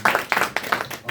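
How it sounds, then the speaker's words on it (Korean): Church congregation clapping in praise during a worship service, a short burst of several uneven claps close by, each sharp and bright, lasting about a second. "하나님께 영광의 박수 올려드리겠습니다."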